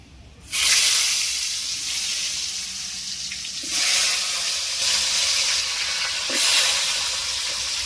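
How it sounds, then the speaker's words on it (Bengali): Potatoes frying in hot oil in a wok give a loud, steady broadband sizzle that bursts in at the start and swells again a few times, heard alone without talk. "এই তেলের মধ্যে আমি আলুটা একটু ভেজে নেব"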